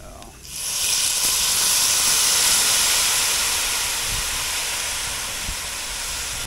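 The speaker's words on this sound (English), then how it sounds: "deglazes the bottom of the pan and gets all that good flavor into our mix there" Cognac poured into a hot pan while making green crab bisque gives a loud, steady steamy hiss that bursts in and holds for several seconds before easing slightly.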